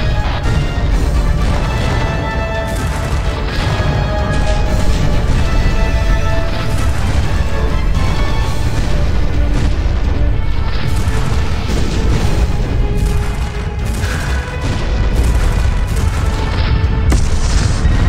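The spaceship Egyptos explodes in the Freespace video game. Loud, dense booms and crashing blasts roar on continuously, with rumbling layers that overlap and swell throughout.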